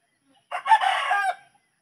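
A rooster crows once close by, a single loud strained call lasting under a second in otherwise quiet surroundings.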